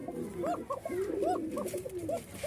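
Fancy Pakistani pigeons coo in repeated rolling calls, several birds close by and overlapping in a steady rhythm, with no talk over them.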